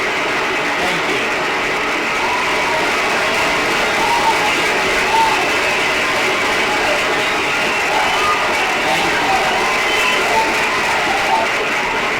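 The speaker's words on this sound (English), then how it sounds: "Sometimes a crowd just doesn't know when to stop cheering." A pinball machine plays a crowd cheering sound effect, a continuous dense roar of cheers and applause that runs on unbroken, mixed with mechanical clicks of the playfield.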